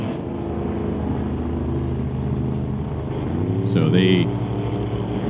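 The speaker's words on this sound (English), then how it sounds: "you hear the throttle stops taking the power away there" A Corvette drag racer in the NHRA Summit Super Street category drones at steady engine pitch, then the throttle stop cuts in and the tone wavers and drops, heard at a distance under a commentator's voice.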